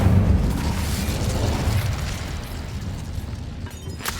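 Incendio fire spell cast in Hogwarts Legacy: a loud, rushing, crackling burst of flame that roars steadily and fades slightly, ending with a brief sharp snap.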